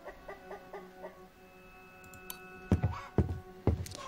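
Chickens cluck in a short, rhythmic series of calls on a farm, followed by several louder, closer bursts of fowl noise near the end.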